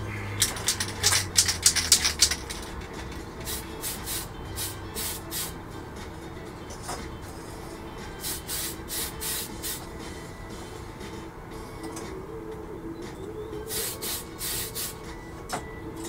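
White paint sprayed as a second coat onto the intake of a 1/48 ROKAF F-15K Slam Eagle scale model, heard as clusters of short hissing bursts separated by pauses, near and fairly loud, with no talking.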